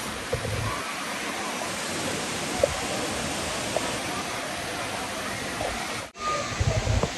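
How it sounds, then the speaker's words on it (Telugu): Continuous rushing roar of Talakona waterfall, broad and steady, with faint voices and occasional knocks nearby. "సో మీరు వాటర్ సౌండ్స్ అయితే వినొచ్చు."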